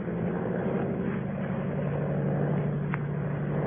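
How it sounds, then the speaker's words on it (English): A monoplane's propeller engine drones steadily through a climb, heard as a continuous, even hum with no talking. "a monoplane was climbing into the heavens"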